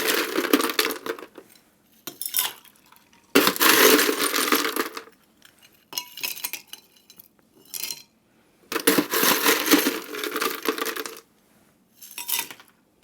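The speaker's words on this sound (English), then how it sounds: "And both of these get ice." Ice cubes clattering and clinking into cocktail glasses while a 1951 Everglades Collins cocktail with Ungava gin is made, in several loud, close bursts separated by brief quiet gaps.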